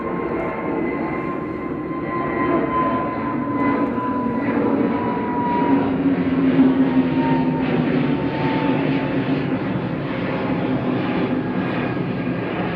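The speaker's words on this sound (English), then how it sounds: "SAS departed next, heading back to Copenhagen with Flight 542." An SAS airliner departs for Copenhagen, its steady jet engine roar holding loud and broad throughout, swelling slightly near the middle before settling at a constant level.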